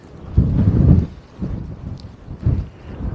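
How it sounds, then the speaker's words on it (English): Strong gusts buffet the microphone on top of Glastonbury Tor, coming in loud, rumbling bursts that swell and fade three times with brief lulls between. "the wind's quite strong"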